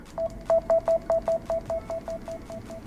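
About fourteen even, rapid beep-like clicks from the volume buttons of a Galaxy Note 10+ in a clear case, fairly faint and close, in a steady run lasting under three seconds.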